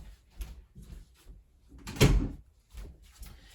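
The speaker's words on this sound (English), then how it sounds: "Sorry, needed to shut the door after my daughter came in." An indoor door is pushed shut, one solid thump rising from a few quiet scuffs and knocks, followed by faint soft handling noises in a quiet room.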